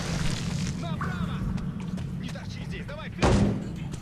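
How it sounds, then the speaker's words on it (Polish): A grenade goes off in the shooter game Metro 2033 as one sudden, deep, booming blast late in the clip, over steady game background and a speaking voice. "Nie, to był granat, nie nóż."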